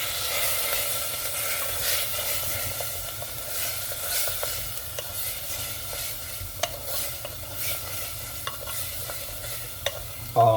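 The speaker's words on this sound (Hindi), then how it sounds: "हम इसको इतना भूनेंगे कि ये प्याज जो और टमाटर है वो अच्छी तरह आपस में एक पेस्ट सी बन जाए, ग्रेवी बन जाए।" Onion, tomato and spices such as turmeric, red chili and coriander powder frying in a pan for lentil dal, with a continuous sizzle under repeated scraping stirs and occasional clinks.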